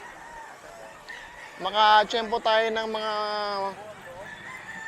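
Rooster crowing at an open-air market selling stags, bull stags and cocks: a single loud, drawn-out crow close by with someone talking over and around it.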